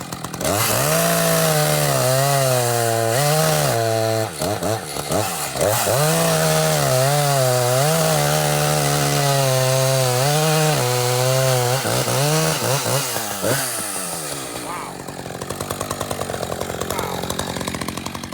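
An ECHO CS-590 Timber Wolf chainsaw cuts wood, its engine loud and close, revving up and down in repeated surges as it bites, then dropping to a rougher idle near the end.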